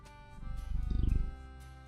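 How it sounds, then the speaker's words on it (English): A kitty in a room makes a close, low, pulsing rumble that swells for about a second and then fades, with no talk over it. "We have a kitty."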